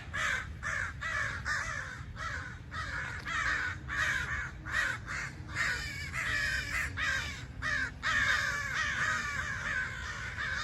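Crows cawing repeatedly in smoky outdoor air amid wildfire haze, a dense, overlapping chorus of harsh calls in steady rhythm over a constant low background rumble.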